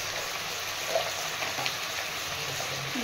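Cinnamon, cardamom and cloves sizzle in hot oil for a potato curry, a steady close crackling hiss with small pops and faint stirring throughout.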